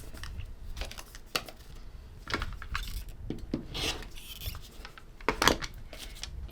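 Scissors trim small cotton quilt patches, including a little white triangle, for a hand-pieced sampler block. Soft snips and fabric rustles come in irregular bursts, close and quiet, with no talking.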